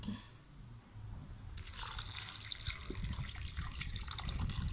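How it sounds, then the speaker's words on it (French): Water poured into a pot of mung beans that have been cooking for an hour, a soft trickling and splashing pour starting partway through and growing steadily, close and fairly quiet. "on va rajouter de l'eau"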